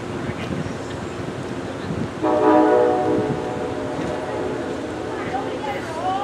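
An Amtrak train rumbles past in windy outdoor air at Harpers Ferry, and a long horn blast sounds nearby partway through before fading back into rolling rail noise.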